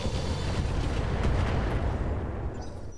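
Mech weapons in Roguetech fire all at once, making a heavy, continuous barrage of booming blasts that rumbles loudly for a few seconds before thinning slightly at the end.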